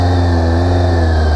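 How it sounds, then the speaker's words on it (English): A 2002 Yamaha YZF1000R Thunderace motorcycle with about 19,000 miles runs with a steady, even engine hum and a strong low drone, recorded close and loud, with no voices. "The engine itself sounds sweet, it's got a good battery on it, it starts easily."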